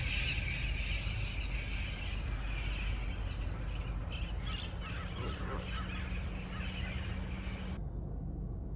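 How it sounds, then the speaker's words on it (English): Birds call outdoors along a street, scattered squeals and honking cries over steady traffic-like background noise, moderately distant. "So it's birds."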